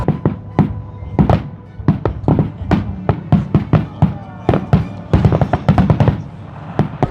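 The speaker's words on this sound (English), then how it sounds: "we'll get to see Regatta fireworks amazingly" Hobart Regatta fireworks watched from the deck of a 150-year-old tall ship: a rapid series of sharp bangs and pops at irregular intervals, thickening into a dense volley near the end.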